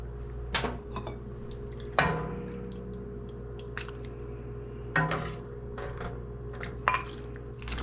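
A spoon scrapes and clinks against a pot of corn soup as heavy cream is stirred in, with sharp knocks every second or two over a faint steady hum, and no voices.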